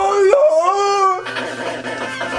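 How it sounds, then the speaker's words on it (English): Synthetic dog howl and bark from the RoboCop video game, a rising, wavering electronic cry followed by a harsher noisy burst, loud and close with no talk over it. "Where they give dogs, like, a completely fake sound."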